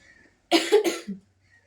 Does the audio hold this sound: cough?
yes